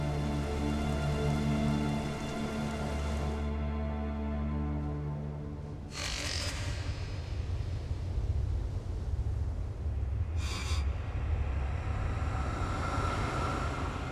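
A brief rain shower falls on open sea, a steady wash of droplets and spray heard alone and fairly loud throughout, with a low rumbling undertone and a couple of short hissing bursts.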